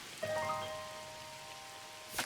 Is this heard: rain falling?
yes